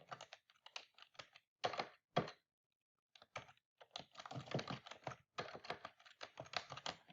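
Bursts of quick typing on a computer keyboard, close and fairly quiet, with clusters of key clicks separated by short pauses and a longer silence near the middle.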